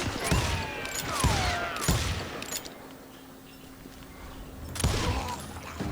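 Several scattered gunshots in the Western shooter Call of Juarez Gunslinger, a few sharp cracks spaced across a few seconds against a quiet background.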